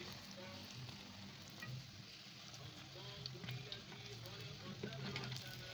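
Luqmat al-qadi dough balls fry in hot oil with a steady, soft sizzle and light bubbling crackle, fairly quiet and close, with no one talking over it.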